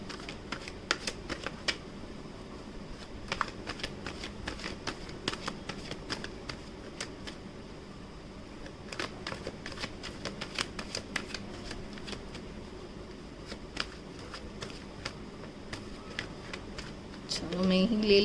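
Tarot cards are riffled and shuffled in a quiet room, a long run of soft, rapid flicking clicks in bursts, with faint talking near the end.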